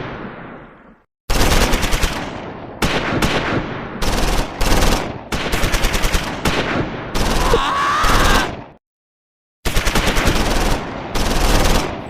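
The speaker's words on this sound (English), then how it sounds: "But firing continues." Gunfire in the Close Combat 4 war game, Battle of the Bulge at Esch-sur-Sûre: loud bursts of machine-gun and rifle fire in repeated clusters separated by brief silences.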